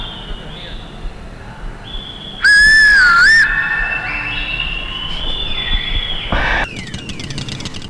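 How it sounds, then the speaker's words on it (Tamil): A person whistles a sliding, wavering melody in short bursts, loud and close, with a sharp high blast in the middle and steady background noise around it. "விசில் அடிக்கணும்"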